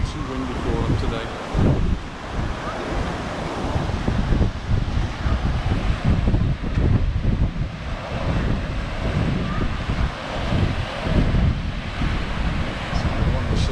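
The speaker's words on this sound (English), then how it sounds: "It's too windy for them today." Strong wind at a beach in Cala Rajada, Mallorca, roars and buffets the microphone continuously with surf rumbling underneath, loud and unbroken throughout.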